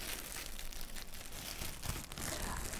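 A standard plastic bag is peeled off watercolour paper with a soft, continuous crinkling and tearing rustle, close and fairly quiet, with no talk.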